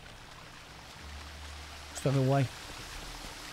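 Steady rushing roar of a waterfall in The Witcher 2 video game, with a cave hidden behind it, running continuously while a man briefly exclaims over it.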